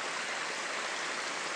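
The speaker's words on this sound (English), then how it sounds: "where my yard looks like a river is running through it" Floodwater rushes through a residential yard like a river, a steady, close, broadband roar of flowing water with no pauses and no voices.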